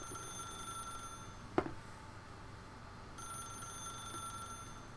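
A telephone rings in the video game The Stanley Parable, a bright electronic bell tone sustained through most of the stretch with a brief gap, moderately loud over a steady low background hum.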